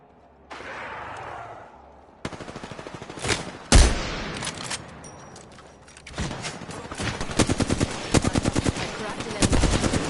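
Video game shooter gunfire: a rapid machine-gun burst, a heavy single blast, then several more rattling automatic bursts growing louder toward the end, with brief ambient noise in between.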